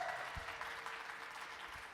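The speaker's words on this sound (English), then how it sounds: "So big round of applause for Orville Hine." Audience applause at a recital, a steady wash of clapping filling the room at moderate level throughout, with a faint voice briefly audible at the start.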